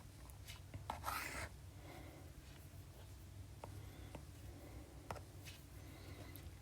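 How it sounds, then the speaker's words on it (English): Marker or chalk writing on a board during a lecture: faint scratchy strokes and taps at irregular intervals, with a brief rubbing burst near the start and no talking. "So let's write it here."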